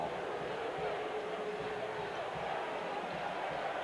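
A packed basketball arena crowd roars steadily at Iowa State's Hilton Coliseum during a 1987 game against Oklahoma, a dense, continuous wall of noise with no breaks.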